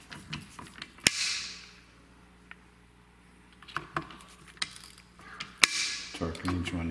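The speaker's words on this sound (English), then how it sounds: "Torquing each one down." A torque wrench tightens the scope base screws on a Browning Max Long Range rifle in 6.5 PRC, giving two sharp clicks among quiet rattles and soft handling noises at close range.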